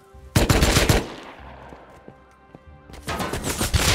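Silenced AK rifle fire in the survival game Rust, two rapid bursts of muffled shots separated by a quieter gap, loud and close with no talk.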